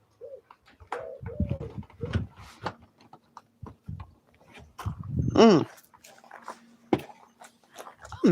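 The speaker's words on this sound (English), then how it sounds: "Anybody else have a dog that woke up in the middle of the night and had a freak out issue?" A dog whimpers during a night-time freak-out, giving short high whines and yelps that are scattered between bursts of quiet rustling and clicking, with one rising squeal partway through, all fairly close and soft.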